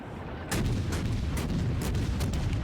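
Heavy 46cm battleship guns fire in World of Warships, with a loud boom that starts abruptly and is followed by a string of rumbling, crackling blasts and distant impacts.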